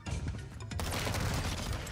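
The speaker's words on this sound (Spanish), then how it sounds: "ya estoy escuchando los disparos" Bursts of rapid Warzone 2 video game gunfire crackle in a dense, noisy mix, growing louder and more continuous partway through.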